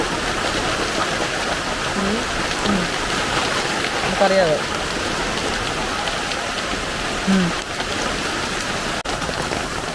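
Heavy rain pours down on a dark late afternoon, a dense, constant hiss of drops that continues throughout while a person speaks briefly over it.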